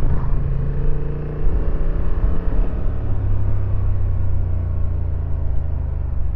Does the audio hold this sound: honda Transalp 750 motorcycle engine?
yes